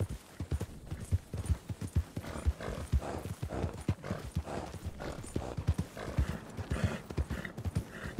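A horse gallops across the open world of Red Dead Redemption 2, hooves pounding in a fast, continuous clip-clop that stays near and prominent throughout, with no voices over it.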